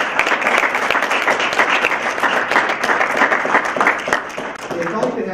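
A crowd at a regional poetry recitation final claps steadily for the judges, a loud, continuous round of applause from start to finish.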